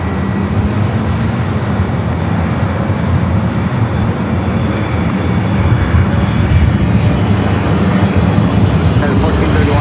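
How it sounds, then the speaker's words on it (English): A British Airways Boeing 777 landing at LAX gives a loud, broad, steady roar of jet engines close by, sustained without a break. "Speedbird 777 at 300 yards."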